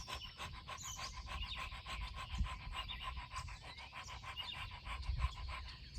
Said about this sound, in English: open your mouth and stick out your tongue and pant like a dog and sound like this